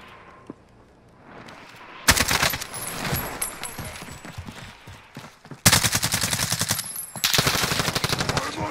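Rapid bursts of automatic gunfire in a video game shootout, loud and close, arriving in several long rattling volleys with short pauses between them.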